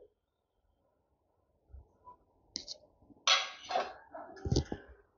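Metal spoon scraping and clinking in a kadai as okra, masala and fried onion pieces are stirred together, with sparse clatters building into a busier run of knocks and scrapes near the end.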